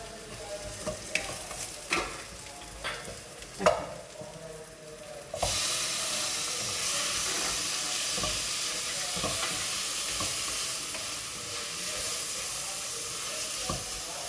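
Onion masala for an egg curry is stirred in a pan, with spoon scrapes and clicks at first, then a loud steady sizzle of frying that fills the rest, with no voices.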